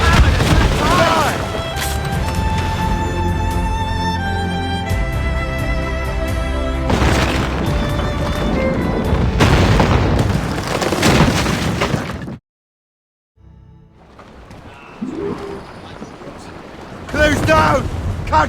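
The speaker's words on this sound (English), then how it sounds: "They have reinforcements, sir! They're firing a volley!" A ship's cannons fire volleys in Assassin's Creed Rogue, with loud, heavy booms repeating over dramatic music and shouting crew voices, a short silent gap, then more blasts.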